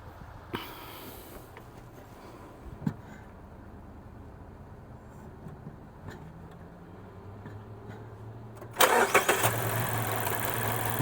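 A car engine cranks with scattered sputters before catching and running roughly with an uneven, misfiring idle, the engine noise jumping loud near the end of the clip.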